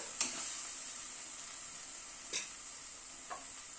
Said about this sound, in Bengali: টমেটো পেস্টটাকে দিয়ে আবার একটু কষিয়ে নিলাম।